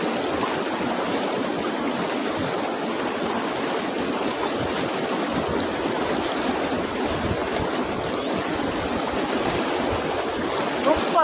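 A waterfall and stream in the Gir forest rushing continuously, a dense, steady wash of water that stays at an even level throughout.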